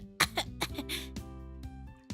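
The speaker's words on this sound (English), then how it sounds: "I cough miserably instead, water trickling down my chin and my cheeks." A person coughs as a sound effect in the Out of the Ocean visual novel: a short run of harsh, wet coughs in quick succession, close and clear, with no talking.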